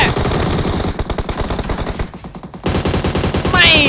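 Rapid automatic gunfire in the mobile shooter PUBG Mobile, loud rattling bursts with a brief lull before firing resumes, close and dominant.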